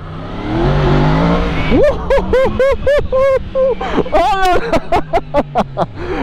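A Yamaha MT-10 motorcycle, in traction control mode 1, revs hard in a series of loud, rising and falling bursts, the engine note climbing repeatedly as it accelerates into a wheelie, close and dominant after a brief rumbling start.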